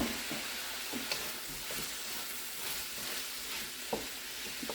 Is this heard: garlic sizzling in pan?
yes